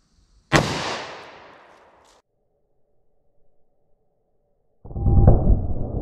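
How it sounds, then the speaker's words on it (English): A .357 Magnum snub-nose revolver fires once into an MDF target with a sharp, loud crack that decays over about a second, followed by a short silence and then a burst of rustling, handling noise. "357 Magnum through our MDF."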